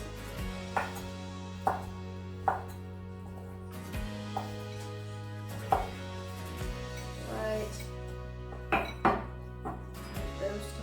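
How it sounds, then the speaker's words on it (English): A knife slices a thigh into thin pieces on a cutting board, giving a series of distinct, moderately loud chopping knocks at an uneven, unhurried pace, with no talking. "all we're going to do is just keep nice little slices all the way across"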